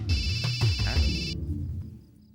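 A telephone rings with a bright electronic warble for about a second, then stops, leaving low background sound with faint voice-like murmurs.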